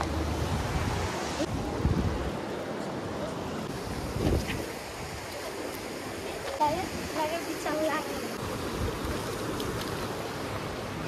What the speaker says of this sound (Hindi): आगे से बहता हुआ आ रहा है पानी इस साइड।